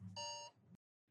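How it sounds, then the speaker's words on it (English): An alarm rings out as a reminder to start recording, a short electronic beep, near and fairly loud, which cuts off abruptly into silence. "That was actually the alarm for us to go record."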